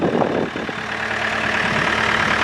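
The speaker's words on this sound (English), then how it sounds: "66 horsepower, YANMAR diesel." Yanmar 66-horsepower diesel engine idling on a 2014 Takeuchi TB285 excavator, a steady low, even rumble held close and constant throughout, with no talk.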